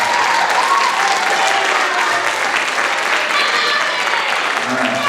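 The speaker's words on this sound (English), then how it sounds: "Let's give them all a round of applause," Loud, dense applause from a banquet audience at a high school marching band celebration, steady clapping filling the room for about five seconds with no pause.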